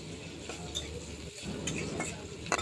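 Onions fry in a pan over a straw-fired village stove, giving a steady, close sizzle with occasional light scrapes and clinks of a utensil stirring against the metal.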